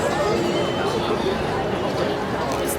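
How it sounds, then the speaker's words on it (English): Crowds on a busy street in Osaka, Japan, give off a continuous hubbub of many voices at a moderate, even level, with nearby speech layered over the babble. "Wow, big crowd."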